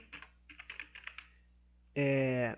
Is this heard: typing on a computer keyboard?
yes